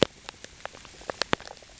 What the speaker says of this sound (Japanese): 本日は6月2日どっしゃ降りですね